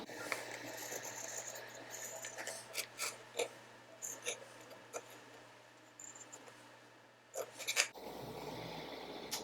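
A long swath of lemon peel is trimmed along its edges as a garnish for a French 75 cocktail, giving a series of crisp, close snipping cuts spread irregularly over a quiet background.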